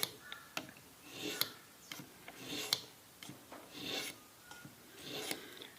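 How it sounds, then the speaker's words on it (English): A grafting knife is drawn steadily across a sharpening stone, giving repeated rasping, scraping strokes in a regular rhythm, faint and close, with light clicks between strokes. "draw it across the stone like this until I'm happy with that edge"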